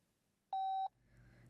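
A single clean electronic voicemail beep, a steady pure tone lasting about a third of a second, sounds against near silence and is followed by faint background hiss.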